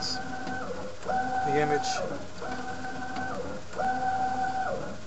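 A DTG garment printer printing an image makes repeated mechanical whirring passes, each a steady hum lasting about a second with short pauses between, while someone talks over it.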